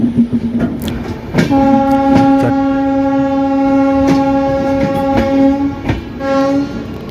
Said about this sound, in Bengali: চারটে পনেরোই একদম সঠিক টাইমে কিন্তু মালদা টাউন থেকে ট্রেন ছেড়ে দিল দার্জিলিং মেল